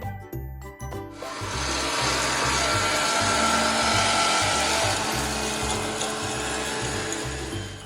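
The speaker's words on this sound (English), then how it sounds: "So now I'm going to grind it in my mixer." A kitchen mixer grinder grinds hard dried orange peel. It starts with a few short pulses, then runs loud and continuous up close with a rattling, buzzing whir, and no one speaks.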